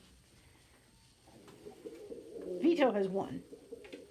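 Pet pigeons or doves squabbling over nests make a burst of agitated cooing and wing scuffling that rises in the second half, close and moderately loud, while someone speaks briefly over it.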